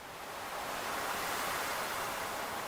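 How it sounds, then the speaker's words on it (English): Water ambience from Stardew Valley, a soft, continuous rushing wash like flowing water or gentle surf, steady throughout without any voices. "I just love the sound of the water."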